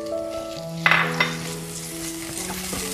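Minced meat fries in vegetable oil in a pan with a steady, close sizzle, and a stirring scrape breaks in near the start under a faint tonal hum.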